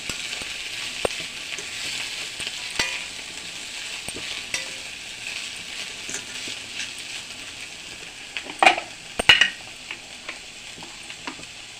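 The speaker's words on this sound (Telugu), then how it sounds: "ముందుగా ఉడకబెట్టుకున్న వార్చుకొని పిండుకున్న దాన్ని అరటిపోని ఇందులో వేసుకోవాలి ఇలా వేసుకొని బాగా కలుపుకోవాలి" Boiled, squeezed banana flower being stirred into a pan, a low sizzle with intermittent spatula scrapes and a couple of louder metallic clatters near the end, no talking.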